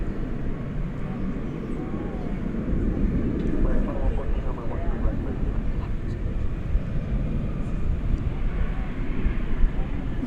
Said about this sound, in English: Get you that Viva Aerobus coming in. It's an Airbus A320.